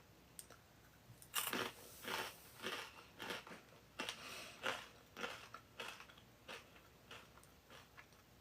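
Crunchy garlic-flavored pea spiral crackers are bitten and chewed up close, giving a string of sharp crisp crunches in an irregular rhythm, fairly quiet, with no talking.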